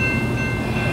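A freight train passes at La Plata, Missouri, in a loud, continuous close rumble of rail cars with a steady tonal hum.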